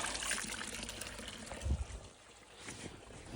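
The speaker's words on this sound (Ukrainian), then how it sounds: "Отак водичку качає, витягує з водоноса всю ту глину, яку ми загнали при бурінні" Water gushes and splashes steadily as a pump pushes muddy, clay-laden water out of a newly drilled well, a continuous wet rushing with a low rumble underneath.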